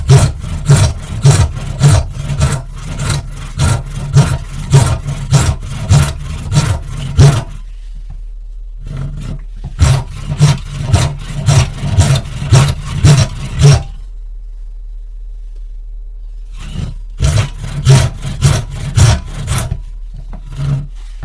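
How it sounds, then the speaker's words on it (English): A hand saw cuts wood for a traditional-style wooden plane in quick rhythmic strokes, loud and close, coming in three bursts separated by short pauses. "I'll probably switch to a different saw for these two cuts so I can follow it a little easier."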